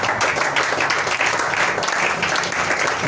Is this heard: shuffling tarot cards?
no